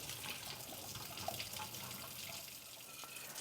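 Tap water runs steadily as a glass bottle is rinsed, a faint, continuous splashing hiss with no pauses.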